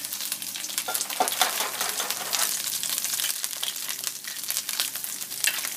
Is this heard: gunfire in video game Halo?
no